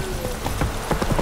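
Horse hooves clip-clop in The Witcher 3 as the mount is urged to jump, a steady rhythmic trot of close, moderately loud hoofbeats over faint background game ambience.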